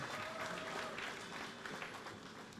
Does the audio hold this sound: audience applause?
yes